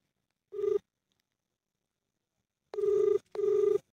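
A telephone rings in clear, close electronic bursts: one brief ring, a long pause, then two quick rings back to back, with no voices.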